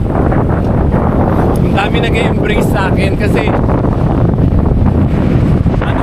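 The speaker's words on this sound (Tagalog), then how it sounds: "lakas ng hangin" Strong wind buffets the microphone in a constant roar while a person talks over it, walking on the CCLEX bridge in Cordova, Cebu.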